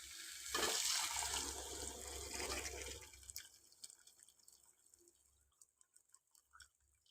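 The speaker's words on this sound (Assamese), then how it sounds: "পানী অকণমান বেছিকৈ দিছোঁ" Water poured into a cooking pan of elephant foot yam, a loud rushing gush for about three seconds that fades into scattered splashes and drips.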